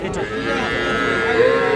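A bull calf at a cattle market gives one long, drawn-out moo close by, rising toward the end over a low crowd murmur.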